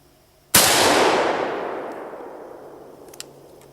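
A single loud, close gunshot from a Mosin Nagant rifle outdoors, a sharp crack followed by a long echoing boom that fades away over a few seconds.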